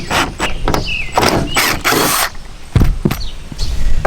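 Phillips screws being backed out of an RV air conditioner cover, loud close squeaks and creaking ratchet-like turns in irregular bursts with brief gaps.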